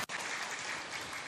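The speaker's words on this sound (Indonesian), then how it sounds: "Tepuk tangan dong." A crowd at a youth religious gathering in Indonesia breaks into applause, a dense, even wash of clapping that starts abruptly and holds steady, heard from a distance at low volume.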